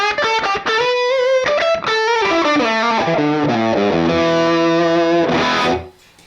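Distorted electric guitar through a Universal Audio Ruby '63 amp emulation plays a loud, busy run of chords and single notes with a chorus-like shimmer, ending on a sustained chord that cuts off abruptly.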